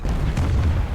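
War Thunder artillery fire: deep, booming thuds that run together into one heavy, close, continuous rumble lasting about a second.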